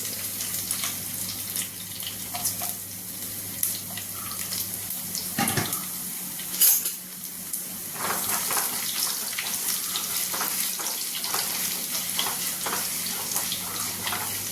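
Five cloves of finely minced garlic with a couple of curry leaves sizzle in a hot pan for a tomato kurma, a continuous watery hiss broken by a few sharp clinks and scrapes.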